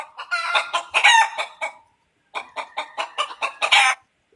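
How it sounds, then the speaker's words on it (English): Hens cluck in a rapid, loud, close series of choppy bursts, then after a brief pause a rooster-like call rises through another quick run of clucks, with no talking over it. "I love how you have the chicken noises"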